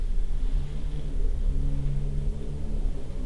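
A car passes outside an old building, a low rumbling engine drone that swells and recedes over a few seconds, heard from indoors with no talking.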